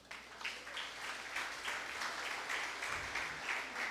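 A church congregation applauds during a Spanish-language service, a soft, distant wash of clapping rising and falling in gentle rhythmic swells, fairly quiet throughout.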